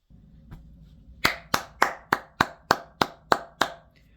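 Eight sharp, evenly spaced hand claps ring out close and clear in a quiet room, following a softer tap and a moment of low background noise.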